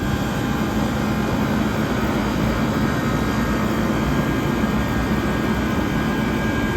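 A 1978 Comfort-Aire Quietmaster Heat Controller 29,000 BTU air conditioner runs on low with a blocked condenser, giving off a steady, even broadband whoosh and hum that holds constant throughout with no voices.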